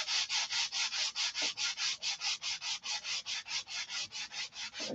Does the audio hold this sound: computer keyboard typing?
no